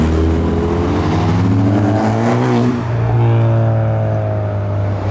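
A modified car pulls away from a car meet, its engine revving and rising in pitch as it accelerates, loud and close before settling into a steady drone.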